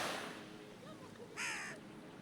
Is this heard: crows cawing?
yes